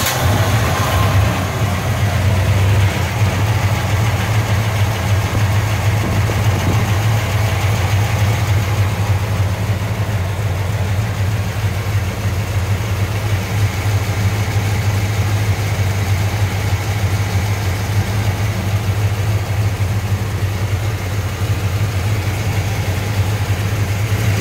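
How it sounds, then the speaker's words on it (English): A 1968 Plymouth GTX with four-speed, its engine idling just after a near-cold start: a steady, loud low rumble with a slightly uneven throb, close up and continuous, unchanging for the whole stretch with no talk. "We're gonna get an almost cold start."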